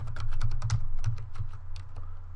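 Quick bursts of keystrokes on a computer keyboard, a close, clicky patter of several taps over a low steady hum.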